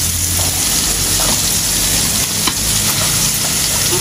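Fish sputtering in hot oil, a steady loud close sizzle with crackling pops and occasional stirring sounds, continuous throughout without talk.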